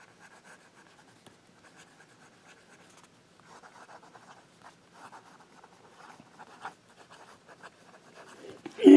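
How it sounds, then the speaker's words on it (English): A Cross fountain pen with a wet nib moves quickly across paper, making faint, close scratchy strokes in short bursts that grow busier toward the end in a quiet room. "Fast writing."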